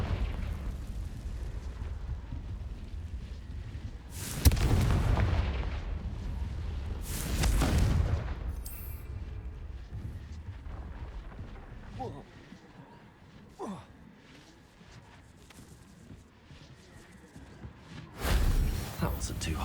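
Confringo spell blasts in the Hogwarts Legacy video game go off as three loud, booming bursts spaced across the stretch, with quieter game ambience and a speaking voice in between.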